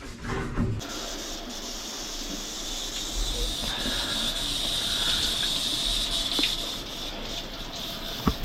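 Shower water runs with a steady hiss and spray in a stilted cabin along a bikepacking route, continuous and fairly close, with a few small knocks.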